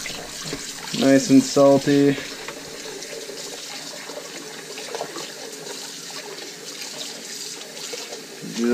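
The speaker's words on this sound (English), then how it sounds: "Run a little bit of water, put some salt in there." Tap water runs into a bowl of salted burbot fillets, a steady splashing wash of water under a voice, with a brief loud burst of talk near the start.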